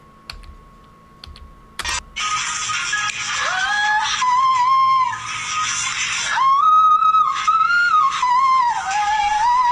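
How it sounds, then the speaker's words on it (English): A singer's whistle-register vocal runs: very high, thin, sliding tones rippling through rapid riffs, loud and sustained, preceded by brief clicks. "she can do like entire riffs and runs in whistle tone"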